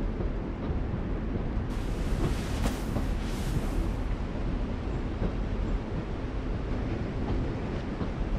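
A train in The Walking Dead video game, a steady rumbling roll with a broad hiss that swells in the middle, continuous and fairly loud with no talking.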